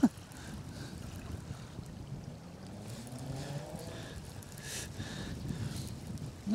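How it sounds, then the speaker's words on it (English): Wind gusts across an estuary beach at high tide, a steady broadband rush with soft buffeting, moderate and continuous with a faint swell toward the end. "And that wind's starting to pick up now."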